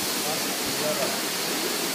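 A waterfall pours into a natural pool at Aşıklar Şelalesi near Dikili, İzmir, giving a dense, steady rushing hiss of falling water that fills the whole clip with no break.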